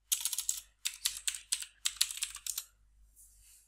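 Typing on a computer keyboard in bursts of quick, crisp, close key clicks with short gaps between them, ending in near silence, with no talk.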